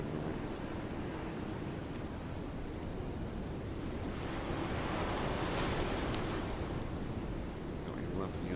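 High winds at cliffs in the Golf VR game make a continuous, moderately quiet rushing roar like surf, steady for the whole stretch with a slight swell midway.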